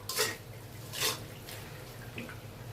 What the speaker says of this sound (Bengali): পানি দিয়েছি